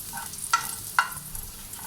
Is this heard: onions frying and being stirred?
yes